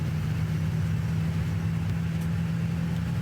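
Inside a 1965 Plymouth Fury III cruising on a very windy day, a steady low road and engine drone fills the cabin with only a faint, even layer of wind noise and no talk.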